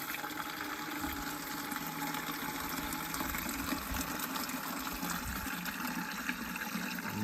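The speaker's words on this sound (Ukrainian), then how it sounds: "Набираю водичку." Water pours steadily into a container with a constant gushing hiss, fairly quiet and uninterrupted for several seconds.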